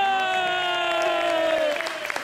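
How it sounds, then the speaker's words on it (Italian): In a theatre, applause from the audience rises beneath a loud sustained musical tone that slides slowly downward, with the crowd's clapping more distinct once the tone fades. "Vorrei sentire un bel applauso perché prima non si è sentito"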